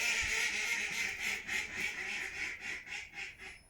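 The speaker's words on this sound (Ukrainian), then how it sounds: "Це дикі качки. Це вони так кожен вечір." Wild ducks quacking in a repeated rhythmic series in the evening, heard from a street, likely calling from a nearby river; the calls are steady and moderately loud, with no talk over them.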